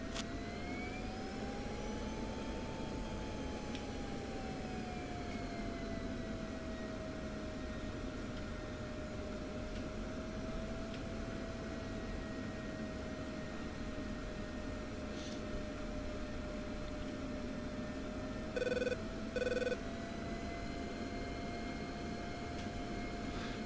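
An F-16 jet idles and taxis in the DCS combat flight simulator, a steady engine whine and drone with a slowly shifting tone and two short beeps near the end.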